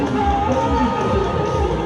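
A crowd of people along the Xijiang River on a Saturday night, a steady murmur of many voices with some singing or music mixed in, continuous and moderately close.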